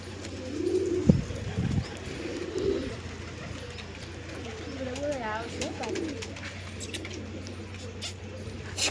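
Domestic pigeons coo in low, rolling phrases close by, with a couple of sharp wing-flap bursts near the start as birds take off; soft chirps and background noise fill the rest.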